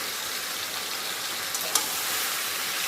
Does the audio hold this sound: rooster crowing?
no